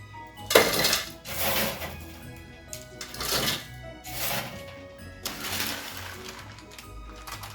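Toasted oatmeal mixture pours and rattles into a food processor fitted with a blade, several loose rustling bursts of dry grains hitting plastic, moderately close, with quiet gaps between pours.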